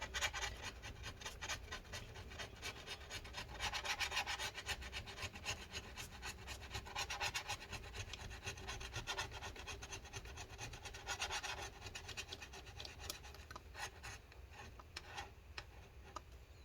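A tool scrapes adhesive residue from the battery area inside a 2012 15-inch MacBook Pro A1398, giving quiet repeated rasping strokes in an uneven rhythm, close up and with no talking.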